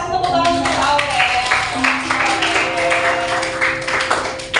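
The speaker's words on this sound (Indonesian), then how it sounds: "kita kasih tepuk tangan untuk Aurel" A classroom of students claps for a classmate after her presentation, with dense clapping running throughout alongside some talking voices.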